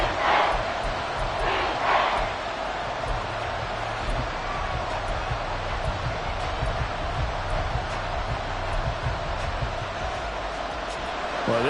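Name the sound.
football stadium crowd cheering, Bills game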